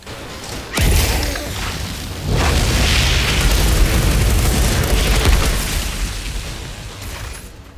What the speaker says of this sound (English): Wow, look at all these artillery shells.